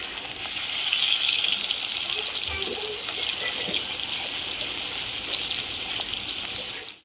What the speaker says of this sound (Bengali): তেল গরম হয়ে গেছে আমি মাছটা এবারে দিয়ে দিলাম